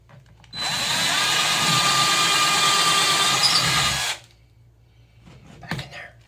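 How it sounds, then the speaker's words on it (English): A cordless power drill runs steadily for about three and a half seconds while boring into a wall with insulation behind it during a wall-mounted hair dryer install. The whine is loud and close, then it stops and a brief clatter follows. "Forgot to put it in drill mode."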